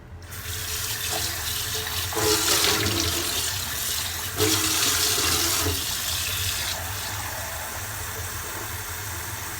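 A very small pot is rinsed under a running kitchen tap, a steady, close gush of water that swells and eases over about ten seconds with no voices.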